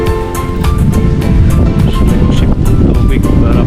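Irrigation water pump engine on a rice farm, drawing water to flood seedling beds; a loud, steady mechanical drone with splashing and rough wind-like noise, close to the microphone throughout.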